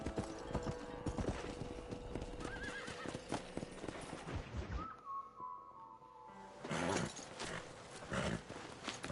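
Horses gallop and whinny in the Red Dead Redemption video game, dense rapid hoofbeats driving steadily under shouting, with a sharp neigh midway and a whistle-like tone cutting through.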